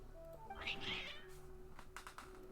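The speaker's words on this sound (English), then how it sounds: "Your cats seem pretty worked up." Cats in the Genshin Impact video game meow in agitated bursts, with rising yowling calls in the first second and a few fainter cries later, heard close over a steady musical drone.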